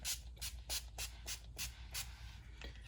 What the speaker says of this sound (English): This is my all-time favorite drugstore setting spray. It is NYX Dewy Finish.